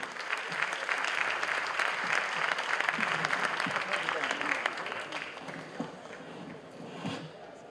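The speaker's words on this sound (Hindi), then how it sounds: "जोरदार तालियां हो जाए इन सब के लिए" Crowd at a stage show applauds pole mallakhamb performers, a strong wash of clapping that swells early then gradually thins and fades, with scattered voices and movement near the end.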